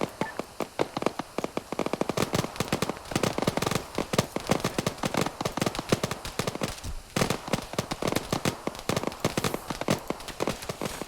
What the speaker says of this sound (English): we can hear enemy fire at this time